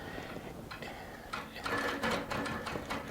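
Baby Lock Regent sit-down long arm quilting machine stitching a couple of knots in a quilt, a soft quick mechanical chatter of needle strokes in short bursts, close and steady, with faint music underneath.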